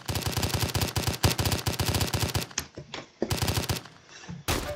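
Rapid automatic gunfire from gamepass weapons in the Roblox video game, loud bursts of evenly spaced shots separated by brief pauses and sharp single reports, with no talking.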